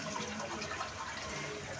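The waterfall at Maa Ban Durga temple gives a steady, even rush of falling water, continuous and fairly soft, with no voices.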